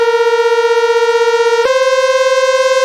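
A synth build-up effect: a loud sustained tonal drone with bright stacked harmonics and a gentle steady pulse, stepping abruptly to a new pitch midway.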